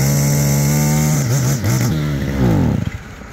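A brush cutter's small engine idling to burn off carburettor fuel after the fuel tap is closed, its steady buzz wavering and stumbling before sputtering to a stop.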